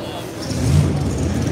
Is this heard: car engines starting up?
yes